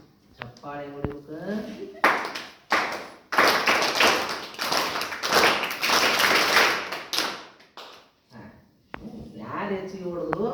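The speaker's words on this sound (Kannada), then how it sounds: "ನೋಡಿ ಚಪ್ಪಾಳೆ ಹೊಡಿಬೇಕ" A crowd at a school anniversary function breaks into loud, sustained applause for several seconds that swells and then fades, with someone talking before and after it.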